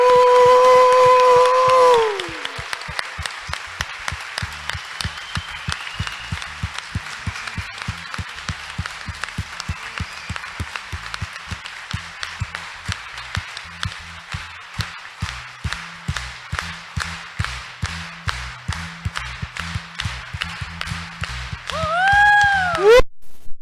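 A church congregation at a Mass for the Ascension claps in a steady, rhythmic beat for nearly twenty seconds, framed at the start and end by a held tonal sound, with no voices over the clapping.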